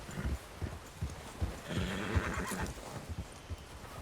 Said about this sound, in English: Tem que acalmar o cavalo.